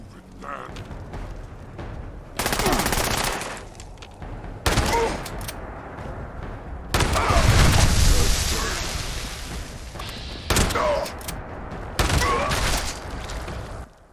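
Shotgun blasts from Fallout 76 go off in several heavy bursts over combat noise, some single and some in quick clusters, loud and close, with a voice talking between shots.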